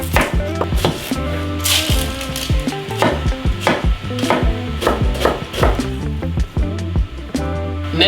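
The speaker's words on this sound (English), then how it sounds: "1 red onion, finely diced." A knife finely dices a red onion on a board, with rapid, evenly spaced close chops continuing steadily throughout.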